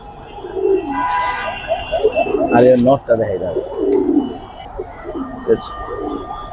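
Pigeons coo loudly and close by in warbling, repeated phrases while someone talks over them, the bird calls continuing between his words.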